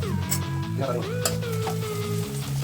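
Finely chopped onions fry in a pan with mustard seeds and dried chillies, a steady sizzle with stirring that runs beneath a sustained tonal background tune, with no clear talk.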